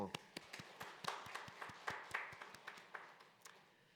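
A church congregation claps together in a steady rhythm during a worship service, with sharp, regular hand claps filling the room throughout.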